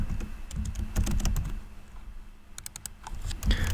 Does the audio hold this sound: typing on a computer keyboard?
yes